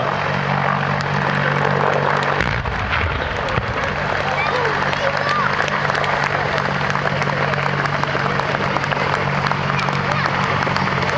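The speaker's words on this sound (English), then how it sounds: "the British Army Apache attack helicopter" A British Army Apache attack helicopter flies past at an air show, its rotor and engine roaring loud and steady against the broad noise of an outdoor crowd, with a low thudding throb underneath.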